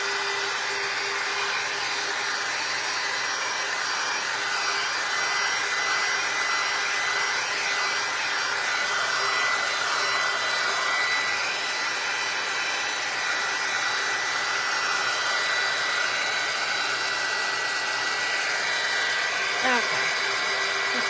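A hair dryer blows steadily and close by for a long stretch as it dries paint on a window during a nursery makeover, its airflow whooshing at a constant level with a faint voice underneath.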